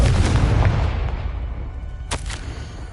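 A fire spell bursts in Hogwarts Legacy gameplay, with a heavy booming blast that rumbles and fades. A sharp crackling pop follows about two seconds later.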